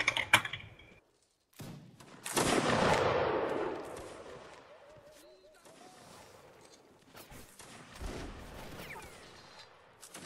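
Gunfire cracks during a siege battle in a multiplayer video game, several sharp shots and a burst of heavy rumbling fire, spaced irregularly under German-speaking voices calling out.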